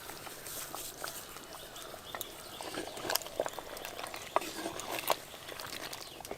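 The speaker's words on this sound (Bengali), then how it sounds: "তাও দেখুন হাঁড়ির মধ্যে ঝোলটা ফুটছে টকবক টকবক করে" Chicken curry bubbling in a clay pot over a low flame, a faint, steady simmer of soft pops and gurgles with a few sharper bursts, heard close up with no talking.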